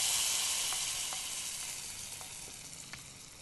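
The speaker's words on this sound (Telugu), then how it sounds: "స్టవ్ ఆపేసి ఈ తాలింపుని ఉడుకుతున్న కర్రీలో వేసేయాలి" Hot tempering with a pinch of asafoetida poured into simmering bottle gourd pulusu, a bright steady sizzle that slowly fades, dotted with a few small pops and crackles.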